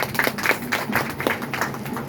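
A small group at a meeting claps, irregular overlapping hand claps at moderate volume for a couple of seconds.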